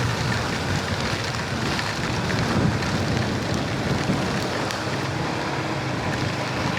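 Heavy rain pours steadily around a rider on the road, with rushing wind and spray blending into a loud, unbroken wash of noise throughout.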